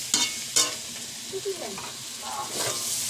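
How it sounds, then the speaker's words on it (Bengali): Vegetables frying in a pan, a steady hissing sizzle broken by a few sharp scraping stirs of the spatula, close and moderately loud. "দেখুন আমার সবজি ভাজা প্রায় রেডি হয়ে এসছে।"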